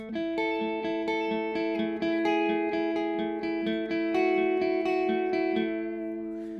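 Clean Nash T-57 Telecaster electric guitar through a Morgan RCA35 tube amp, a steady strummed chord pattern with bright ringing harmonics, played alone at moderate volume.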